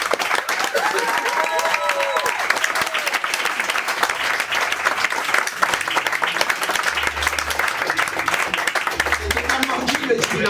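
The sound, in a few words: audience applause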